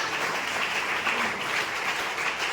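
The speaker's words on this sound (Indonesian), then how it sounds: "Mari berikan tepuk tangan lebih meriah lagi." A church congregation applauds during a worship service, a steady, dense wash of clapping that holds evenly for the whole stretch with no talking.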